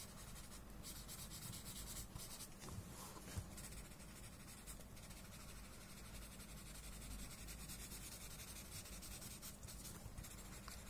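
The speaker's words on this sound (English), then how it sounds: "Moving on to blending the corners, where I've added some really thick graphite under my bunzo." A blending stump rubs thick graphite across paper in a quiet, close, continuous scratchy swishing, with soft back-and-forth strokes repeating steadily.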